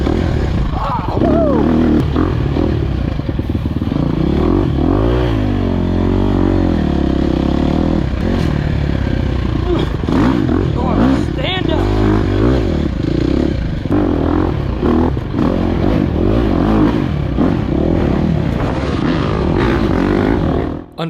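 An enduro dirt bike rides through muddy, rutted terrain at the Flying W Enduro race, its engine loud and close, revving and shifting pitch continuously, with clattering and scraping throughout.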